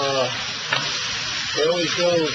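Steaks sizzle steadily on a 2007 TEC gas grill, a close, continuous frying hiss with a brief faint voice-like swell near the end.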